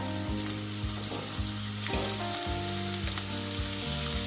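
Red and white onions fry in a pan for a fish tagine, giving a steady close sizzle, with a low tonal hum running underneath and light stirring taps at regular intervals.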